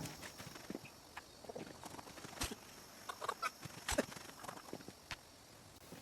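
Chickens in a trailer cluck softly and intermittently, with scattered scratches and knocks around them in a quiet rural setting.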